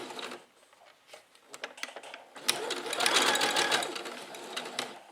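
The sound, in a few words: sewing machine stitching a hem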